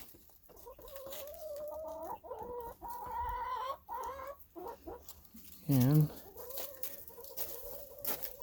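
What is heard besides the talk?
chickens clucking as they run out of the coop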